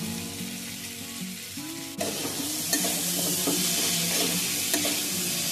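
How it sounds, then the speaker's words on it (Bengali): Whole poppy seeds fry in a pan with kundri (ivy gourd) curry, a steady close sizzle overlaid by spoon scrapes and stirring that grow louder after a sharp clatter midway, with no voices. "আগেই আমি দিয়ে দিলাম যাতে পোস্তটা এর সঙ্গে কিন্তু হালকা ফ্রাই হয়ে যায়"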